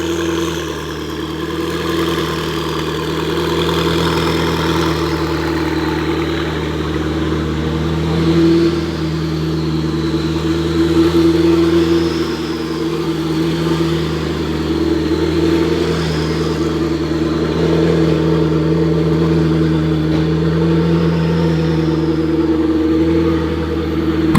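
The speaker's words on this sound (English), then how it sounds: "the McLaren 12C is leaving, the Integra is leaving, Bryce is backing out the 12C" Car engine of a McLaren 12C idling and rumbling steadily as it backs out and pulls away, a continuous low drone with gentle rises in revs and no voices.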